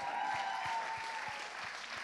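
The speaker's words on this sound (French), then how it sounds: "On peut les applaudir?" An audience at a church gathering applauds guests, giving a dense, continuous wash of clapping that stays steady and fairly loud throughout, with a faint tone and low rhythmic thumps underneath.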